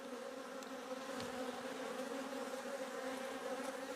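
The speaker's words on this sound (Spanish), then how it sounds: "están las avispas aquí" Wasps buzz around a beehive frame holding wax and nectar, a steady close droning hum that continues without a break for the whole stretch, with no voices.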